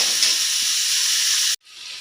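Onion and tomato sauté in a pan for a village-style manathakkali chutney, giving a loud, steady, close hiss that cuts off abruptly, then a quieter hiss returns.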